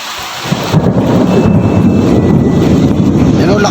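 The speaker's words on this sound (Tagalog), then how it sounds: "Yan o, lakas ng ulan." Loud, heavy rain roars continuously close by on a farm treehouse, with a deep rumbling thunder undertone beneath it.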